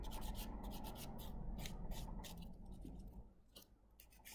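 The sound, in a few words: buffing off gel polish top coat with nail buffer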